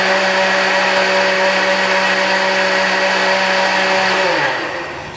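An electric blender whirs loud and steady while mixing Guinness punch creme, then winds down at the end.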